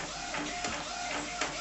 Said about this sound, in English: you can see it printing there, everything's fine